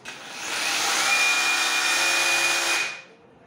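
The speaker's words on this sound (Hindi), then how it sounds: "हैमरिंग फंक्शन में थोड़ा सा आवाज हैवी हो जाती है।" An INGCO CRHLI202081 22 mm cordless rotary hammer with a 4Ah battery runs in hammering mode, a loud, close, dense buzzing whine with a rougher, heavier texture, held steadily for about two and a half seconds before cutting off.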